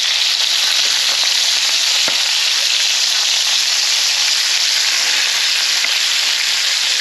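Chicken pieces frying in a pan as the skin crisps: a loud, dense, continuous sizzle with constant fine crackle, close up, with one faint knock partway through.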